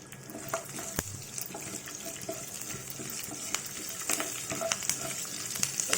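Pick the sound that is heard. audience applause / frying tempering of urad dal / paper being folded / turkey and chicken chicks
frying tempering of urad dal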